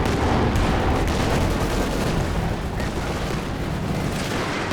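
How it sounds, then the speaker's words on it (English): Rocket artillery pounding a battlefield in the Company of Heroes 2 strategy game, a dense continuous roar of overlapping booms and blasts, loud and sustained without a break. "So many rocket artillery pieces."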